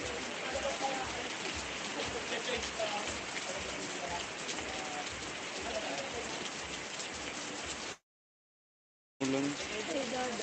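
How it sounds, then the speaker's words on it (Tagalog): Steady, dense rain pattering on a surface, broad and continuous, cutting out briefly near the end before resuming. "Ulan."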